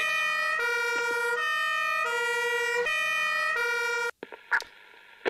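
Emergency vehicle siren from an Emergency 4 video game mod, a loud steady two-tone wail alternating pitch for about four seconds, then cut off and followed by brief scattered game noises.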